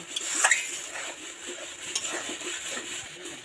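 A spoon stirs fried papaya paneer curry in a pan, giving light scraping and clinking strokes over a faint sizzle, with a sharper clatter near the start.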